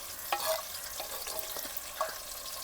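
Onion, tomato and capsicum fry in oil at a low, even sizzle, with soft stirring scrapes and small pops close by.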